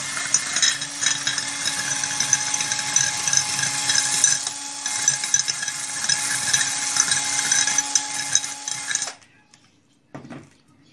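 A power drill grinds steadily for several seconds with a gritty, rattling whir while smoothing a sharp edge on an aquarium hiding spot for shrimp, then cuts off, leaving near silence with a faint knock.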